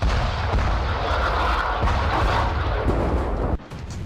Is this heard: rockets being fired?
yes